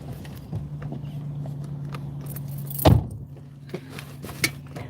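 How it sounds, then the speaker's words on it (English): Keys jangle in one brief, fairly close burst midway through, inside a parked RV, over a steady low hum with a few faint clicks around it. "I need the keys."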